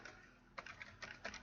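A few light, close clicks from a computer in a database program, occurring in a short irregular cluster of about six taps over a quiet background.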